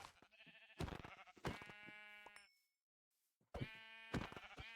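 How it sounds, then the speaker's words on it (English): Sheep in a video game bleat loudly and close in several drawn-out, wavering calls, with a short silent gap before a final bleat. "Kill all these sheep."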